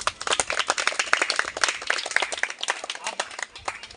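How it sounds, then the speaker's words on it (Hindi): Schoolchildren in a classroom clap for a classmate, a lively burst of distinct, fairly close hand claps that thins out toward the end. "बहुत बढ़िया, इनके लिए ताली बजाओ।"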